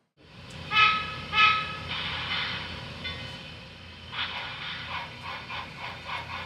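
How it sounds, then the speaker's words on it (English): Sn3 scale model of a 65-ton Shay steam logging locomotive pulling empty cars on a layout, with two sharp whistle toots near the start followed by steady mechanical rumble and running noise. "Number 15, a 65-ton shay, has left camp with a load of empties bound for Summit Landing"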